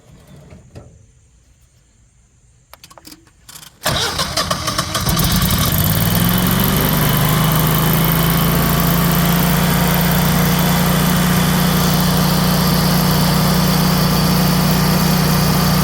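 A Generac 22 kW standby generator cranks after a quiet stretch and then settles into a loud, steady idle with a continuous low hum that holds to the end.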